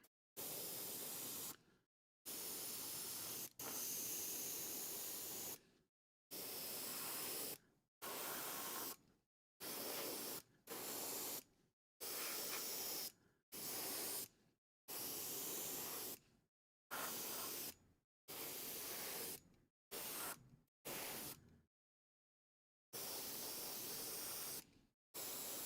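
Paint spraying in long steady hissing bursts from a sprayer, repeated about a dozen times with short silent gaps between, loud and close with no talking.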